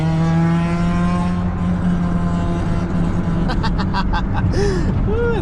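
A 1990 Honda CRX with a 2.0 engine and an exhaust silencer fitted revs loudly and steadily up close, its engine note rising and falling, with short bursts of voices near the end.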